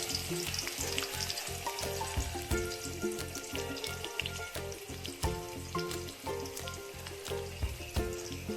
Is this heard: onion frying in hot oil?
yes